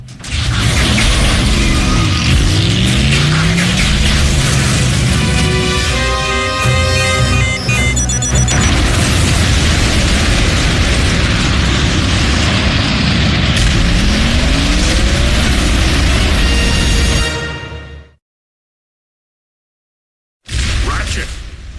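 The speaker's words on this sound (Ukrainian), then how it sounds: "Усе зараз вибухне." Loud, dense blasts and rumbling from an animated Transformers Prime scene fill the clip almost continuously, with booming low crashes and mechanical clatter, then cut to a brief silence before the roar returns.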